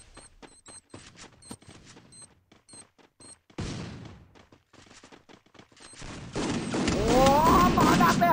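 Grenade blasts and rapid gunfire from the battle-royale game Garena Free Fire, with sharp bursts of shots in quick succession, a heavy boom midway and denser sustained fire at the end, mixed with game sounds.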